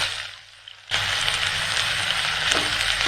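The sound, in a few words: onion, ginger and garlic frying in hot oil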